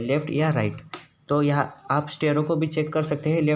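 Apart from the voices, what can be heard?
No everyday noises stand out.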